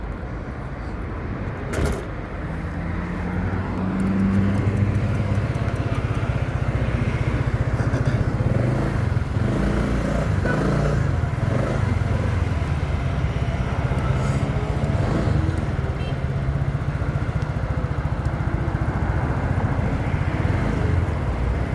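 A small Chinese scooter-style motorcycle runs at top speed, a steady loud engine drone with wind rush building after a short start and holding constant throughout.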